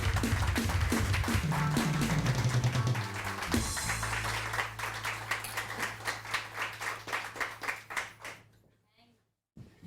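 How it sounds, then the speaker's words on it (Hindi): A studio audience on a morning TV show claps over a music bed. The clapping becomes a rhythmic, even beat that fades away near the end, leaving a brief silence. "तालियां बजा सकते हैं"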